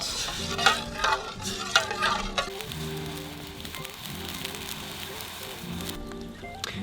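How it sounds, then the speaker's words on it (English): White wine reduces in a pan over an open outdoor fire, bubbling and sizzling close by. Scraping stirs come early, then a steady simmer runs with a low, tonal hum beneath it. "And we let that reduce, cook down a bit."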